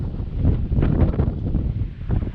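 Strong wind gusts at a riverside gold panning reserve near Lytton buffet the microphone with a loud, low, rumbling rush that surges and eases unevenly throughout, with no speech.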